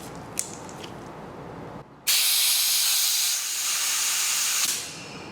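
Compressed air blasts through the passages of a Ford 302 small-block V8 engine block being cleaned during a rebuild, a loud sustained hiss lasting about three seconds after a few faint clicks and a brief pause.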